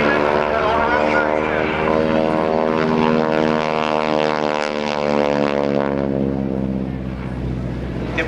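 A Texan propeller airplane passes at an airshow, its loud droning engine tone sliding downward in pitch as it goes by, steady and close throughout, with a voice speaking over it.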